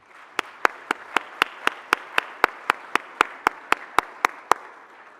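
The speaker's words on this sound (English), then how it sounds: "I'd like to ask that you join me in giving them a round of applause as well." Clapping for conference sponsors at a morning session: sharp, evenly spaced claps in a steady, quick rhythm, with no talk.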